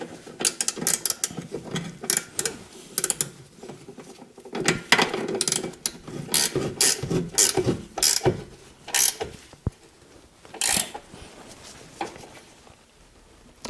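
Ratchet with an 18 mm socket tightening a rear shock bolt on a 2002-2007 Jeep Liberty, close rapid bursts of clicking in uneven spurts separated by short pauses.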